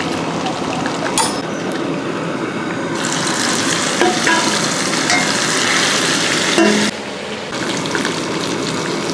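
Oil roars loudly in a kadai as food deep-fries, a dense, continuous close-up sizzle and bubbling that holds steady throughout, with a few brief shifts in intensity and no voices.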